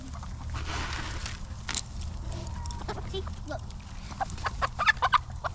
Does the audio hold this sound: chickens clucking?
yes